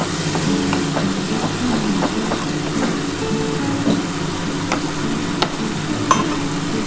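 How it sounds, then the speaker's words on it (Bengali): Spice water poured into a pan of prawn malai curry, a steady loud sizzle and bubbling hiss with faint clinks of stirring, no voices. "মশলার জলটা আমি দিয়ে আর অল্প একটু জল দেবো"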